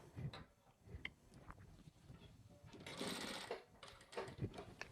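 A sewing machine stitches fabric for a girls' half pants piece, running in short bursts with one longer busy stretch in the middle, separated by quiet pauses and small handling clicks.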